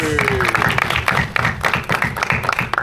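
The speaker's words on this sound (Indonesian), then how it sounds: "Kita tepuk tangan dulu." Audience at a film press conference applauds the story's creators, a brief run of close, somewhat rhythmic claps over low room murmur and chatter.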